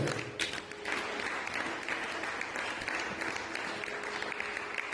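Steady applause from a church congregation during a gospel sermon, a dense continuous clapping that fills the room for several seconds with no pause.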